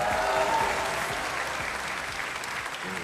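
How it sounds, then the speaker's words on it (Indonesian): A studio audience claps steadily at a televised talk show taping on stage at Udayana, a dense, continuous round of applause with no voices over it. "Tepuk tangan sekali lagi dong"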